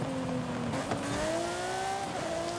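A custom Ferrari 512 Testarossa races in Forza Horizon 5, its engine note holding steady and then rising through a gear change, with faint tire noise underneath, close and continuous.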